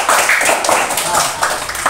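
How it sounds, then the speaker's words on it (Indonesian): Classroom applause for a fellow pupil during an elementary school pencak silat lesson on straight and sickle kicks: brisk, fairly loud scattered clapping from a group of children, running steadily throughout with a teacher's voice mixed in. "tepuk tangan buat teman kita"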